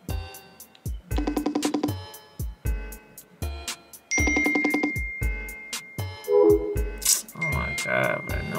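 A phone ringtone plays as a quick, rhythmic electronic melody of repeated short bursts, fairly close, with a person's voice talking over parts of it.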